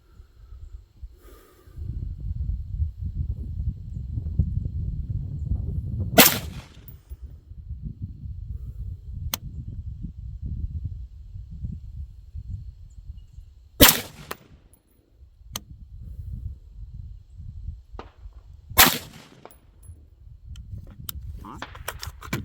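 Three sharp rifle shots from an AR-15 at a shooting range, spaced several seconds apart, each a loud crack standing out over steady low rumble and background noise.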